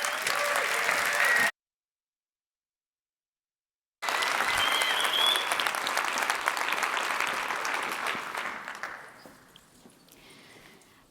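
Audience applause welcomes a speaker at a startup demo day, a dense, steady clapping from a crowd that cuts off briefly, returns just as full, then slowly thins and fades toward the end.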